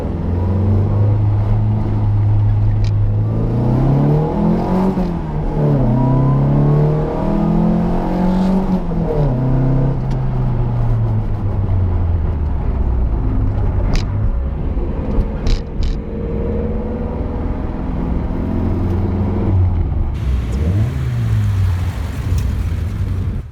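Datsun 510 with an L20B 2.4-litre stroker four-cylinder, the engine revving up and down repeatedly in rising and falling sweeps, loud and close throughout, with no talk.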